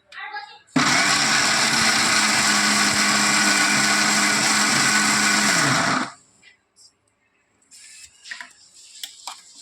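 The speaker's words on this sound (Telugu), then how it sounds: "ఇప్పుడు ఈ మసాలా ఐటమ్స్లో దాన్ని కూడా చేర్చుకొని మిక్సీకి వేసుకుందాం" A mixer grinder blends ridge gourd and tomato chutney with roasted spices, a loud, steady motor whir that starts abruptly, runs for about five seconds and cuts off, followed by quiet clinks and handling.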